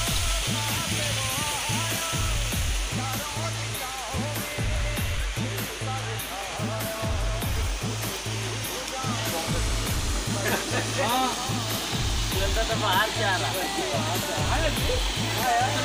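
Sahastrakund Waterfall in Maharashtra roars continuously nearby, a dense rushing wash of water with a pulsing low rumble throughout.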